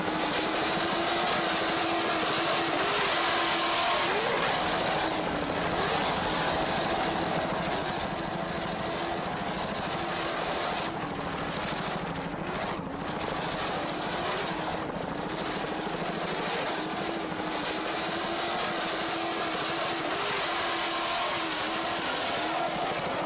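A 42-foot Arasaki Marine offshore racing powerboat in the 1993 U.S. Offshore Worlds off Fort Lauderdale roars with a loud, continuous engine drone whose pitch rises and dips as the throttle is worked. No voices are heard.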